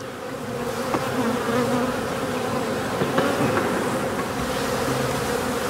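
Honey bees swarm around an open hive while brood frames are inspected, making a dense, steady buzz that stays close and continuous throughout, with a few faint knocks and no voices.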